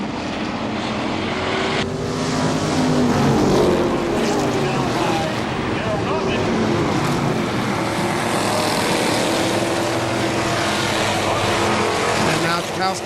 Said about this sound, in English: And leader lap number 1 is car number 22, David Jakowski.